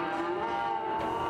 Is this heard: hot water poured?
no